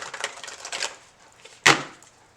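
A deck of tarot cards shuffled by hand, giving quick soft riffling flutters close by and ending in one sharp snap.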